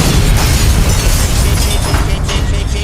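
Loud, sustained cartoon explosion effect with a booming, rumbling roar that fills the whole stretch at near-constant level, no talk over it.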